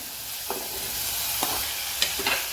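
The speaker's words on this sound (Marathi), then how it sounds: "सगळं व्यवस्थित मिक्स करून घेत आहेत" A spoon scrapes and stirs jackfruit seeds with chutney in a hot, sizzling pan for a jackfruit-seed and prawn bhaji, several distinct strokes over a steady fry, close and alone.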